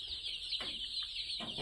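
Chickens cluck faintly at a duck and chicken hatchery farm, short scattered clucks set against a constant high-pitched background hiss.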